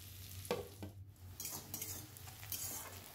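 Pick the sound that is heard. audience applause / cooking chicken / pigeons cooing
cooking chicken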